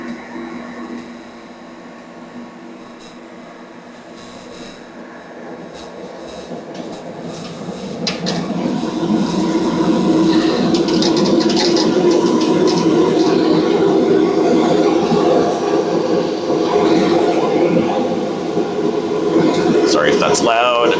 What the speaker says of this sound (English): Crank up my fan here too.